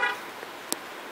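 A 2010 Chevrolet Equinox LTZ gives a single short horn chirp on locking, brief and moderately distant, after a faint rustle and over quiet outdoor background.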